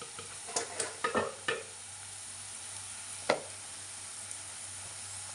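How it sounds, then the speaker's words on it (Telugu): Capsicum frying in a pan for a chapati egg roll, with a steady soft sizzle under several sharp scraping stir strokes early on and one louder clack near the end; no one speaks. "ఇదిగండి ఇలా వేగిపోయింది బాగా మొత్తం క్యాప్సికం అన్నీ"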